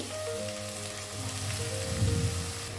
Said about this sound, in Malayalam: ഓയിൽ ചൂടായി കഴിഞ്ഞാൽ ഒരു 3 വലിയ സൈസ് ഉള്ളി നമുക്ക് ഇട്ട് കൊടുക്കാം, ചെറുതായി അരിഞ്ഞത്